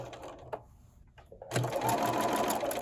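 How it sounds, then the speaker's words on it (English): A sewing machine stitches a quilt block: after a few quiet taps and rustles, the motor starts and runs as a steady, close, rapid whirring chatter until the end. "And then it's just a matter of sewing around."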